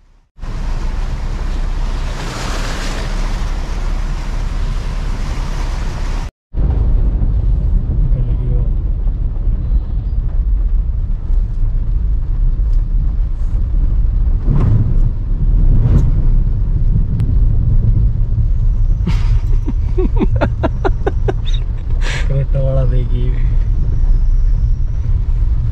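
A car drives through a waterlogged market street, its engine hum and sloshing water rumbling steadily and loudly close by, with brief splashes and a horn-like tonal burst later on.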